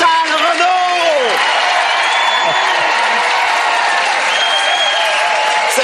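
A television studio audience applauds and cheers for Chantal Renaud, a dense, steady wash of clapping and whoops held at one level throughout, with a host's voice calling out over it at the start.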